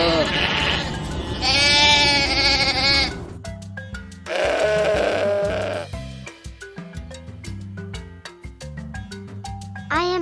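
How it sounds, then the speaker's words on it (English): Sheep bleating loudly in a farm-animal listening game, two long wavering bleats with a pause between, followed by a light, bouncy musical jingle. "I am a sheep."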